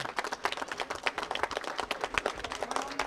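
Applause at a motorcycle trial competition awards ceremony in Moggio, a dense patter of many hands clapping steadily and fairly close.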